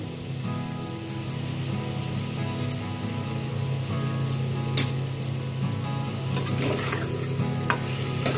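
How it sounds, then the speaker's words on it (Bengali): Eggplant pieces, seasoned with turmeric and salt, sizzle steadily in a pan as they are stirred, the frying hiss continuous and close with occasional scraping clicks from the stirring. "একটু হালকা আমি বেগুনগুলোকে নেড়ে নিলাম"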